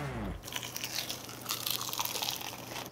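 Crunchy fried chicken, a leg with a crisp coating, is bitten and chewed close to the microphone, giving a sharp crackling crunch followed by a run of moist, crisp chewing sounds.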